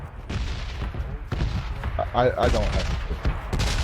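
Repeated pistol shots from the battle royale game PUBG crack in quick succession over a steady game ambience while a player talks through it.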